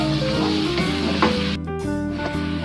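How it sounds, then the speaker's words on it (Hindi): Onions sizzle and crackle steadily in hot oil in a pan as they fry toward golden brown, a dense, close hiss with occasional stirring clatter and no voices. "उसके अंदर हमने प्याज डाल दिया है और इसे अब हम गोल्डन ब्राउन होने तक फ्राई करेंगे"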